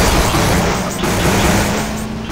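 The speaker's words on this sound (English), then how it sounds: "It's a tau cannon." A loud, sustained barrage of tau cannon fire in Half-Life 2 with heavy booming blasts, dense and continuous for a couple of seconds.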